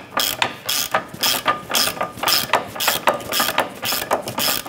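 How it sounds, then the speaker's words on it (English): Hand ratchet tightening a nut and bolt on the front control arm of a 2006–2013 Chevrolet Impala, a close, steady series of quick rasping clicks in rhythmic bursts with no talking. "Let's go ahead and snug down our nut and bolt here."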